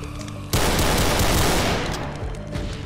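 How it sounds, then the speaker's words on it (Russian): Machine gun fire in Brutal Doom, a sudden loud burst of rapid shots that starts abruptly and sustains as a dense fusillade before tailing off, with no voices. "Как пулемет стреляет"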